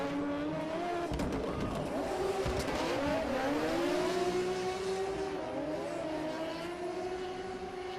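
A drift car at a 2024 competition run holds a sustained engine wail that rises and dips with throttle, layered over broad tire roar and squeal, steady and moderately distant without pause.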